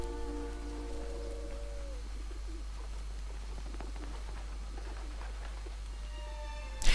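Birds cooing in the video game Final Fantasy IX: soft pigeon-like coos rise and fall over a steady low hum and faint background sounds, with a brief tonal note near the end.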